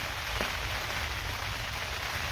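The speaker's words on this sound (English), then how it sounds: "This rain should let up in a minute" Rain falls steadily at an Oklahoma deer hunting camp, a faint, even hiss of drops across the whole moment with no other sounds standing out.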